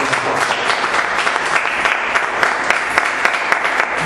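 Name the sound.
applause in church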